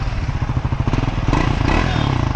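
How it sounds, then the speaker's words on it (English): Triumph Scrambler 400X motorcycle engine cranking and firing up for the first time, a short burst of clattering mechanical ticks that settles into a steady, close idle. "That's the first startup."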